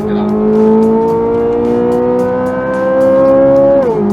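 Corvette Z06 accelerating on a track, its engine note rising steadily in a loud, sustained close drone before easing off abruptly near the end.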